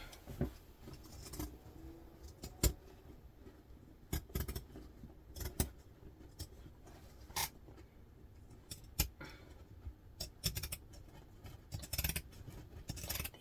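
Dull scissors cutting through handbag material for a vintage-style doctor's bag, with a string of close, crisp snips and crunches at irregular intervals against a quiet room.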